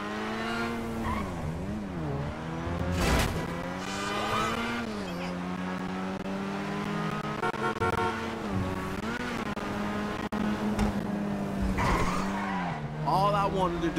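In a GTA Online car chase, engines roar and rev continuously while tires repeatedly squeal and skid, with engine pitch rising and falling throughout and a brief impact partway through.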